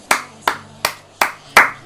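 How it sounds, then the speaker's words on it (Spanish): Five slow, evenly spaced hand claps ring out loud and close over a faint low hum, during play of FIFA 16 Ultimate Team; no talking. "Hay que aplaudirlo, tíos."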